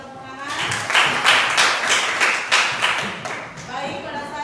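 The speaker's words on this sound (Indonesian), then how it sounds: "berikan tepuk tangan" A group of people clapping in a classroom after a prayer, a burst of uneven claps that swells quickly and tapers off over a few seconds, with voices mixed in.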